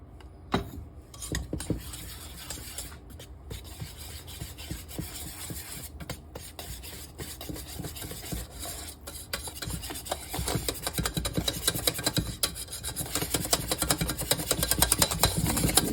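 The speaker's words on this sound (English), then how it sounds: "we're going to whisk these in one at a time" A whisk beats powdered sugar into homemade chocolate cake frosting, a fast rhythmic scraping and rattling against the bowl that grows louder and steadier, with no talking.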